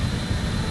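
Jet engines roar steadily in Microsoft Flight Simulator on a four-engine airliner, a dense, constant broadband whoosh with a heavy low rumble, close and loud, no speech.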